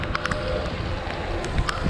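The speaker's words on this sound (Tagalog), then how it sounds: "okay lang ang ulan" Rain falling during a bike ride in a typhoon, a dense steady hiss with scattered pattering taps and some wind rumble, close and continuous, with no voices.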